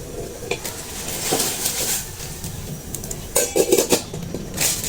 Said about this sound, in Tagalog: kumukulo na siya. Ilagay na po natin yung noodles.